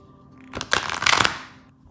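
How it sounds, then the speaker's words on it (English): A deck of tarot cards is shuffled once, a close, brief riffling rustle that swells and fades in under two seconds, with no talk over it. "Let's shuffle these a couple times."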